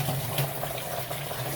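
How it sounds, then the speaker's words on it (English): Water pours steadily into a cup outdoors at a rainforest eco camp in Borneo, a continuous close gushing fill with no voices. "fill your cup up with water"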